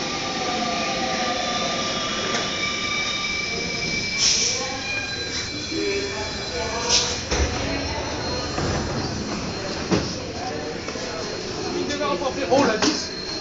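A Paris Métro line 4 MP89CC rubber-tyred train runs with a steady rolling roar, tonal whines and squeals rising and falling, and occasional clunks, while a voice talks intermittently.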